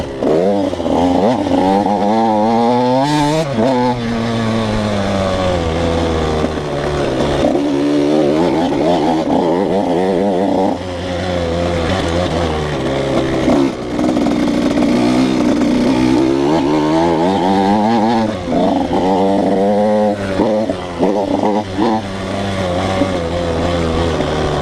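A KTM 85 motorcycle engine runs loud and close throughout a ride, its pitch rising and falling steadily as the throttle opens and eases, with brief dips between gear changes.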